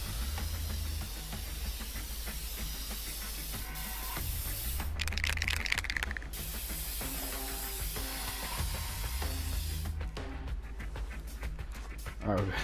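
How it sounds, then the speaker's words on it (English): Aerosol spray can hissing in inFAMOUS Second Son, with two loud bursts of spraying, one short and one longer, over steady game background sound. "A man, a plan, and an aerosol can."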